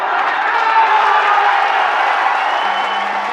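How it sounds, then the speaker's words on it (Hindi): A large crowd at an Indian election rally in Raiganj claps and cheers at a steady, dense level throughout, a broad continuous roar with no voice standing clear above it. "इतनी कमजोर ताली से काम नहीं चलेगा।"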